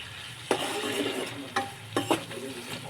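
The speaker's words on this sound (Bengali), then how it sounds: "এবারে ঢাকাটা খুলে চিংড়ি মাছটাকে নেড়ে চেড়ে, চিংড়ি মাছটা একটু সিদ্ধ হয়ে গেছে" Prawns sizzle softly in a pan while a utensil stirs them, giving a few sharp scrapes and knocks against the metal over a steady frying hiss, all close and with no speech.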